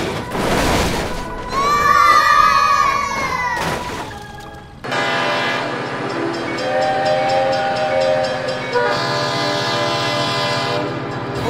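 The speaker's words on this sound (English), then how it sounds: "Oh my God, train!" A train passes with a loud horn blast at the start, then a sustained rumbling roar of rail cars going by close at hand for several seconds.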